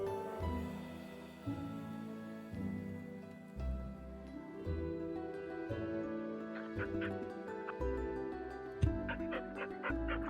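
A dog pants steadily in quick rhythmic breaths, close and fairly soft, with a few faint whimpering tones mixed in and no talking.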